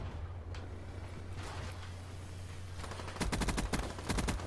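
Weevil submachine gun fire in a video game: after a quiet, rumbling stretch, two rapid bursts of closely spaced shots crackle near the end, fairly faint overall.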